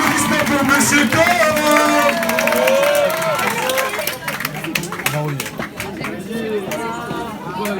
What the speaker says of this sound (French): un peu d'applaudissements pour Monsieur Corn